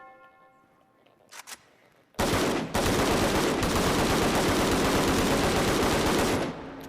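An AKM rifle in a VR video game fires on full auto, a dense, loud, continuous burst of gunfire lasting several seconds after a couple of brief clicks.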